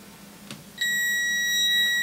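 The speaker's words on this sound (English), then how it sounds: "If I touch them together, the voltmeter will beep." Voltmeter in continuity mode giving a steady, loud electronic beep the moment its red and black probe wires touch, holding on continuously after a faint tap, alone without talk.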